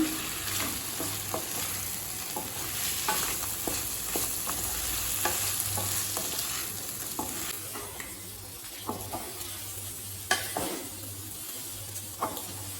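Leftover idli pieces, already fried, are stirred with ground pepper in a pan, giving a steady close sizzle with repeated scraping and tapping strokes of the spoon throughout, and no talking.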